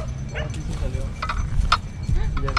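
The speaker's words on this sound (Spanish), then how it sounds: "Oh no, un perro, ahí está." A dog barks a few times outdoors on a street corner, short sharp yaps at mid distance mixed with people talking excitedly over steady background noise.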